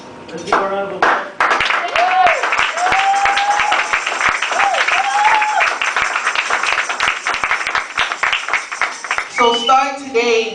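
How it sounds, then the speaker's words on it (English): Applause from an audience at a spoken word performance, a steady clapping wash running throughout, with a voice speaking over it and cheering or calls rising near the end. "Let's give a round of applause."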